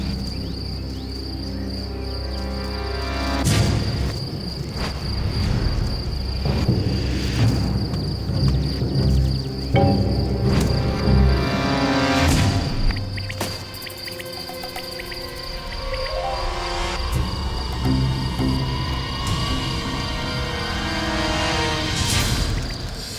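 Crickets trill steadily at a high pitch through a documentary nature scene, with a low rumbling bed and several sharp broadband bursts breaking over the continuous insect chorus.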